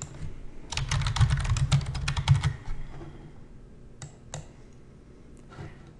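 Close, rapid keystrokes on a computer keyboard as a search term is entered, a dense burst of clicks for about two seconds, then a few separate sharper clicks like a mouse or Enter key.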